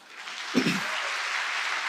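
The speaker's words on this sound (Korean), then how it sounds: "박수 한번 칠까요?" An audience in a church gathering breaks into applause, a faint, even wash of clapping that rises quickly and holds for under two seconds after a short voiced sound.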